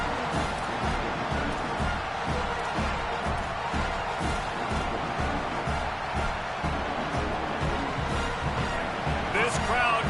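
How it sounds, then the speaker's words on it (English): Stadium crowd noise in the College Football 27 video game during a Miami at Notre Dame matchup, a steady rumbling din running beneath continuous play-by-play commentary. "This crowd going to try to make life miserable for these guys."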